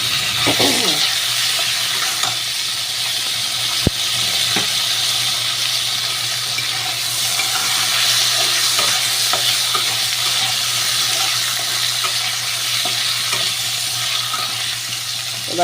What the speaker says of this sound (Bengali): এবার আমি আলুগুলোকে ছেড়ে দিয়েছি, একটু নাড়াচাড়া করব।